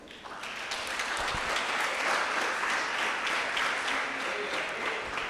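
A church congregation applauds during a sermon, with steady, dense clapping that fills the room and continues throughout.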